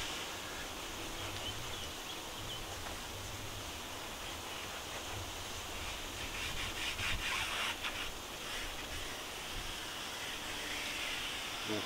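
Steady close rubbing and kneading of a thin oil into a car's rubber door seal, a continuous soft hissing friction with slight swells in intensity and no speech.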